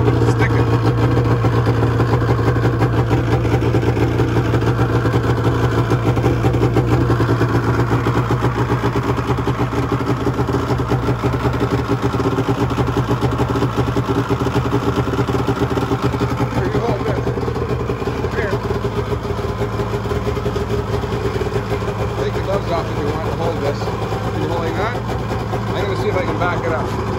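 Arctic Cat EXT 580 snowmobile engine running steadily at a loud, close idle with a constant droning hum throughout.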